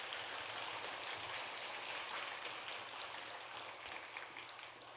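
Congregation clapping during a Buddhist Jijang-day dharma service at a temple: a steady, even wash of many hands, fairly faint and distant, tapering off toward the end with no voices over it.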